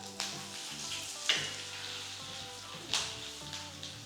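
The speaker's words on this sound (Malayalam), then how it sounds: "ഇത്രയും സാധനങ്ങൾ ചേർത്ത് നന്നായിട്ടൊന്ന് വഴറ്റിയെടുക്കും" Cashews, dried chillies and curry leaves sizzle in hot oil in a pan, a steady crackling fry close by with occasional louder scrapes and stirs, no voices.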